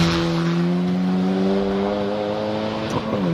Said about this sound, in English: Porsche's up the hill now, using all the power in the exit of museum